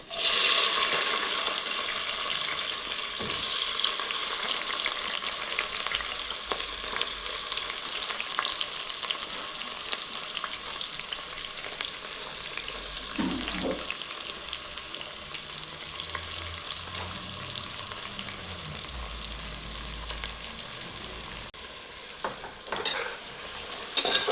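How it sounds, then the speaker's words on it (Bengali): Chopped onions sizzle steadily in hot oil with garlic paste in a pan, loud and close, punctuated by occasional scrapes and stirring knocks. "পেঁয়াজটা অলমোস্ট ভাজা হয়ে গেছে"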